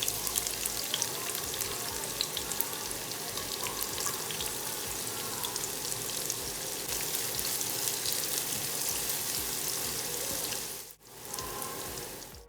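Onions sizzle loudly and continuously in hot oil for a kacchi biryani pulao, a dense crackling hiss that holds steady and briefly drops out near the end, with no talking.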